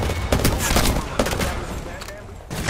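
Video game gunfire in rapid bursts and volleys, dense cracks repeating over a few seconds with a brief lull before more shots, loud and close.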